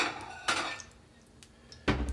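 A plate clatters twice while being pulled out and handled in a home kitchen during Japanese omelet cooking, with sharp ceramic knocks near the start and end and a quiet gap between.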